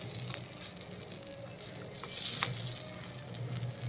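A kids' evening snack frying in a pan until golden brown, a soft steady sizzle with faint crackles and a few brighter pops, quiet and close with no voices.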